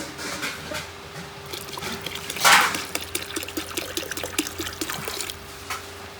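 Rose water and kewra water poured into a pot of Murshidabad-style mutton biryani, a short liquid splash and trickle standing out midway over steady background hum.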